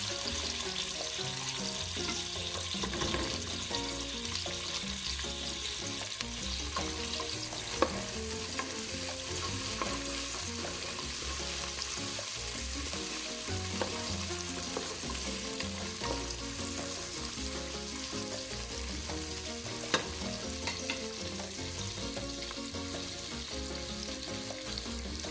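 Garlic sizzling and frying in a pan for a miso sinigang of grouper head, a steady continuous crackle with occasional stirring clinks throughout.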